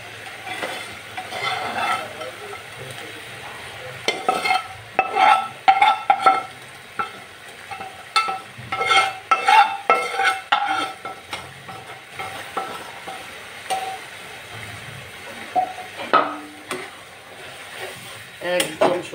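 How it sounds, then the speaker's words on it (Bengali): Mola fish going into a spiced curry gravy in a pan, stirred with repeated scraping strokes over a steady low sizzle of frying, close and moderately loud, with a few brief louder clatters. "আমি মাছগুলি দিয়ে দিব এই ঝোলটাতে"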